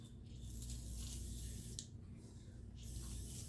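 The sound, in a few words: spraying Otis surface prep cleaner on a knife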